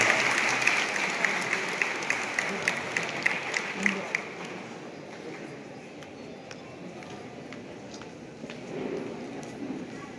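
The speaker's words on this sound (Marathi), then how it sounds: "कवयित्री बहिणाबाई यांच्या प्रतिमेचं पूजन करताना मान्यवर जोरदार आपण टाळ्या वाजवूया।" An audience at a workers' gathering at North Maharashtra University claps loudly for several seconds, the applause then tapering off to scattered claps, with a voice speaking over the room.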